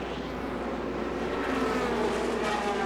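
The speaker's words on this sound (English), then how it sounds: "Listen to the engines buzzing in the darkness." Race car engines drone at night, a continuous blended hum of several motors heard from a distance, steady and unbroken with slight rises in pitch as cars pass.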